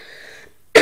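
A single short, loud cough bursts out near the end after a stretch of faint wheezy breathing.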